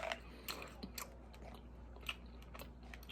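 Chewing gum is worked in the mouth close to the microphone, producing faint, irregular wet clicks and smacks scattered over a quiet background with no talk.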